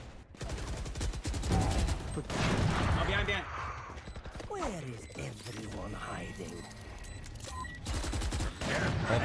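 Rapid bursts of gunfire from a competitive online shooter game, dense and continuous volleys mixed with game effects, playing loudly under excited voices of players talking throughout.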